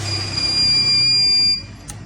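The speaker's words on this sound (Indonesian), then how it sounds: "AVO-nya berbunyi bip." A multimeter on continuity test gives a single high, steady beep lasting over a second while probing a laptop board, with quiet background hum and no talking.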